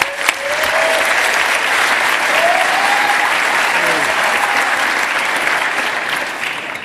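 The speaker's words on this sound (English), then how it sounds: "So if you could give him a quick round of applause" Steady applause from a conference audience at a hacker event panel, dense clapping sustained throughout with a few faint voices underneath.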